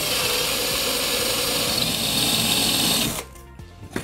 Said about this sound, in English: You only have to drill in there probably about 15mm deep